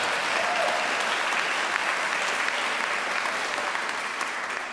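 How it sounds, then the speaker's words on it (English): Audience clapping steadily at a district attorney townhall in Alameda County, a dense, even wash of applause from a seated crowd lasting throughout and fading slightly near the end. "No, clap that, please, clap."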